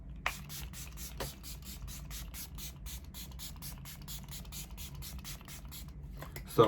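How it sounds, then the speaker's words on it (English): Makeup setting spray is misted over a face in a rapid run of short, soft, evenly spaced pump bursts, quiet and close, with no voices. "I think first I'm gonna do setting spray just because I don't want like the eyeshadow to move"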